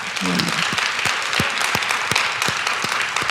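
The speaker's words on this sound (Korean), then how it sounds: "우리 이 예배팀들 위해서 박수 한번 해주세요" A church congregation at a revival service claps for the worship team, sharp distinct hand claps landing in a fairly even rhythm over a wash of broader applause, with a brief voice at the start.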